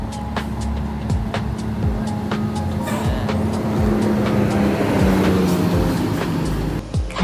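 A bus engine roars loud and close as it climbs the mountain road at Gunung Gumitir, a sustained droning growl with rising pitch and intermittent clicks, no talk.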